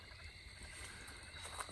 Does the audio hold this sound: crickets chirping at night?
yes